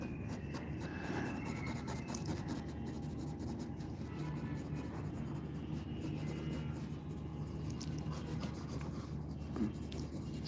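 Pencil scratching and rubbing on paper during a drawing session, a steady soft rasp of strokes running throughout at close range, with no talk.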